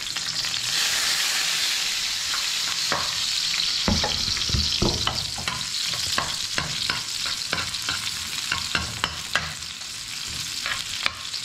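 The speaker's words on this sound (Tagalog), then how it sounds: "Igisa na tayo, buwasan natin yung mantika." Onion sautés in hot cooking oil, a steady close sizzle broken by frequent crackles and the clicks of stirring.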